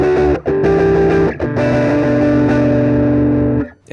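Electric guitar played through an Old Blood Dark Star v2 effects pedal with its tone control turned down, giving sustained, dark, distorted chords that ring for a few seconds with brief breaks between strums, no talking.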